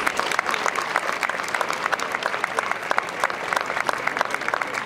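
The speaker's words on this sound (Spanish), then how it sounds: "Un aplauso para todos ellos." Applause for models at an evening fashion show runway fills the space, a dense, steady crowd clapping that holds at even loudness throughout with no break.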